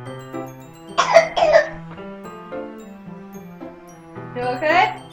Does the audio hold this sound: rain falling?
no